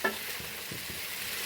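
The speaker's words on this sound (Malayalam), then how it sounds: "നന്നായി ഇളക്കുക, മിക്സ് ചെയ്യുക." Chicken fried rice is stirred in a frying pan, a low sizzle under a handful of soft scraping strokes, close by and fairly quiet, without talk.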